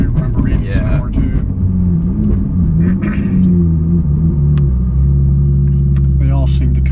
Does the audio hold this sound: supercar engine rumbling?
yes